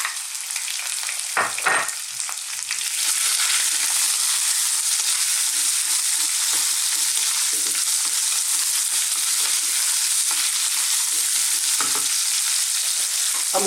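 Onions frying in a pan with potatoes and cumin, giving a loud, steady hiss and sizzle throughout, broken by a few stirring clacks and scrapes near the start and later on, with no talking.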